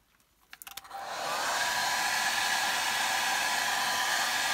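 A hair dryer dries fresh paint on a repaired leather seat of a Mercedes W124. After a few clicks it starts up and settles into a steady, close, loud roar with no talking.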